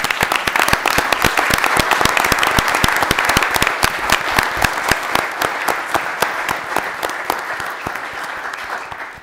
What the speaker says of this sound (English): No reason to clap yet.